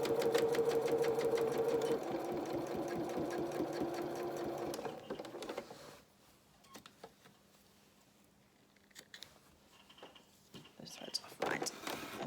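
A sewing machine stitches a label onto a pair of children's shorties, running in a steady fast burst for about five seconds and then stopping. Quieter handling and rustling follow, with someone speaking softly over the work.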